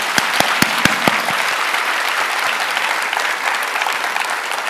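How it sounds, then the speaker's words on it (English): Audience applause for a panel at a design and sustainability forum, a few sharp individual claps at first quickly merging into full, even clapping that continues. "A round of applause for our panel."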